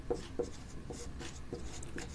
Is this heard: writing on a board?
yes